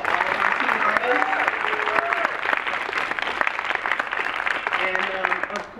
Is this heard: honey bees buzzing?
no